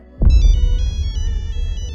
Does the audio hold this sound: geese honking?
no